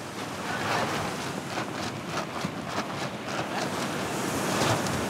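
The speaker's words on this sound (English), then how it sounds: "The wind is strong." Strong wind and breaking waves on the open sea off the coast of Mozambique during a fishing trip, a steady loud roar of gusts buffeting the microphone over churning water, with no voices.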